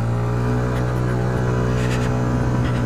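A Yamaha X-Max 125 scooter carries two riders uphill, its engine straining in a steady, loud drone that holds without a break for the whole stretch.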